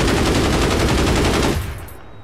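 Rapid automatic gunfire from the player's weapon in the shooter APB Reloaded, a fast steady stream of loud close shots for about one and a half seconds before it cuts off and fades.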